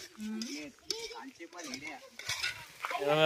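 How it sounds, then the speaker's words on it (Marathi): Egg bhurji stirred in a pan, with a spatula scraping and clinking through soft sizzling in uneven strokes while voices talk nearby. "असंच हलवायचं असतं"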